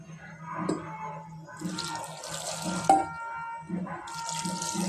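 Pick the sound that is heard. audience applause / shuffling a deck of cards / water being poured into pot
water being poured into pot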